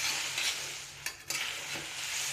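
A spoon stirs chillies roasting in oil, giving a steady close sizzle with a few scraping strokes against the pan, no voices.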